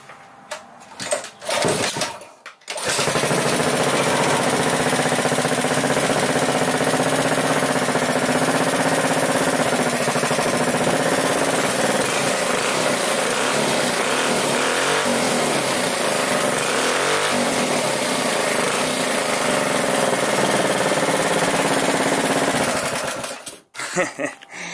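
A Predator 212 small single-cylinder engine with its governor removed starts after a couple of cranking bursts and settles into a loud, steady, buzzing run for about twenty seconds before cutting out.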